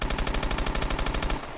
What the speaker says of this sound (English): This is the normal PDW now, and this is the Rage.